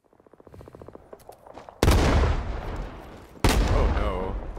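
Rising Storm 2: Vietnam combat opens with a quickening rattle of rapid shots that grows louder, then two heavy, booming blasts hit close, each followed by a ringing tail.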